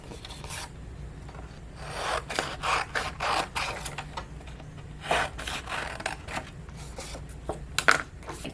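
Paper is trimmed for a handmade card with moving pieces, heard as a series of close, rhythmic rasping strokes, some soft and some sharper, with no talk.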